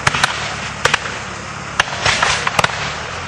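Black-powder rifles crack out at a reenactment of the siege of Fort Erie, a scattered run of sharp reports, some close and loud, others fainter, firing at irregular intervals.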